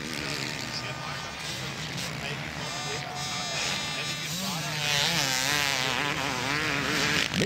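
Kawasaki and Suzuki motocross bikes racing at a 2003 world championship round at Kartenring, Austria, their engines buzzing and revving in a rising and falling whine, with a commentator talking over them throughout.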